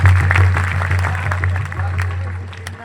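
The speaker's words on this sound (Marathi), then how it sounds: "एकदा टाळ्या वाजवा त्यांच्यासाठी." A kirtan audience claps in a hall, a dense, loud patter of many hands over a low hum, with no clear speech.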